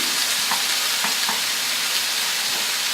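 Ham, tomatoes, fresh herbs and cheese sauté in a pan beside asparagus, giving a loud, even, hissing sizzle with a few soft stirring taps. The sound is close and steady, and no one speaks.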